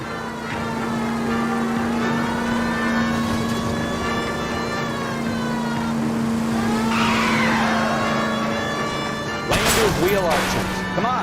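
Car chase in the L.A. Noire video game with a stolen green Kaiser Frazer: a sustained engine roar with tire squeals and a siren, and a crash or impact near the end, under someone speaking.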